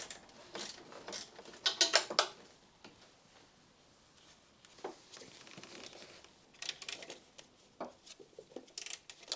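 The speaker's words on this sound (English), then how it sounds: "I can now tighten the tension pinch bolt and the pivot bolt at the bottom of the alternator." Ratcheting and mechanical clicks from tightening the alternator pinch bolt and pivot bolt on a 1.6 Mazda MX-5 Miata Mk1 NA, heard as short bursts of clicks with quiet pauses between them and no talking.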